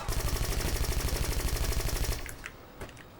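Rapid automatic fire from a massive heavy gun in the Xbox shooter Black, a dense, loud, evenly pulsing burst lasting about two seconds before cutting off, followed by a couple of sharp distant shots and debris.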